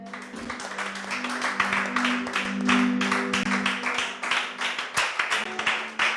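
A church congregation applauds steadily, a dense wash of many hands clapping with a rhythmic pulse toward the end, fairly loud and close, with voices mixed in.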